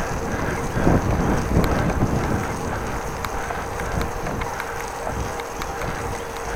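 Wind blows steadily outdoors on a cycling route through a city district, a continuous broadband rush with gusty swells, close to the microphone and heard alone.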